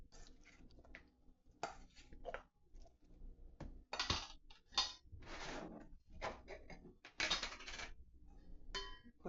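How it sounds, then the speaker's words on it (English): Utensil stirring chicken fajita-enchilada casserole with cayenne pepper in a pan, giving repeated scraping and clinking bursts of varying loudness, close and with no talk. "I'm gonna stir this up."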